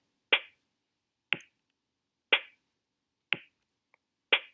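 Five sharp, dry sequenced kick and snare hits land about a second apart, with a couple of faint small ticks between them; the clean, steady beat repeats against silence.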